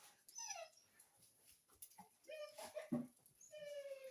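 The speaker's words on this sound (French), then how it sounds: "Mes chiens ont envie de sortir, ils sont habitués à jouer dehors." Dogs indoors whimper and whine to go outside in high, thin cries, several short plaintive calls spread out over a few seconds, fairly soft and close.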